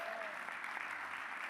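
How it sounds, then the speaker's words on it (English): A brief patch of crowd applause at a former football players' panel discussion, steady clapping from an audience, faint and distant. "how about a round of applause for Jack?"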